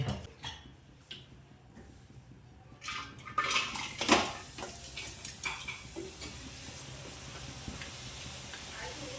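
Grated coconut being dry-roasted in a pan over a low gas flame for coconut candy, with soft scraping and stirring, faint sizzling and occasional clinks of the utensil against the pan, quiet and close.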